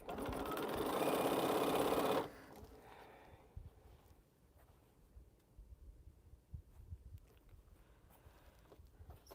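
A sewing machine stitches quilt pieces together in a steady, loud mechanical whir for about two seconds, then stops, leaving quiet rustling and soft handling of fabric.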